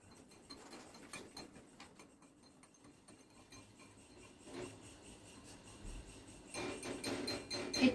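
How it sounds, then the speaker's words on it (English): A whisk scrapes and rattles quickly through hot milk for hot chocolate, a faint rhythmic rubbing that grows busier and louder near the end. "Then we whisk it to be creamy texture."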